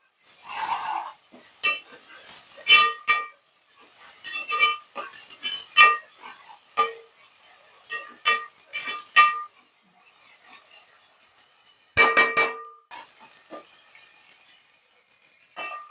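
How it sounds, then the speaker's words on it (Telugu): Ginger garlic paste frying in a pan for a special beef curry, with repeated metal clinks and scrapes of a spoon stirring against the pan in irregular bursts, close and fairly loud, with no talking. "ఇప్పుడైతే ఇందులో అల్లం వెల్లుల్లి పేస్ట్ అయితే వేస్తున్నాను కొంచెం పచ్చివాసన పోయేదాకా చేయించుదామండి"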